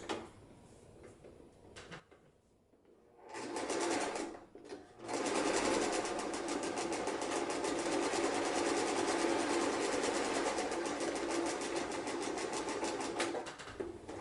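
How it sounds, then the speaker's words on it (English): A sewing machine back stitches a homemade sleeping bag with a close, steady mechanical whir and chatter. After a couple of brief starts, it runs continuously for about ten seconds. "I'm going to set this up and start with a back stitch."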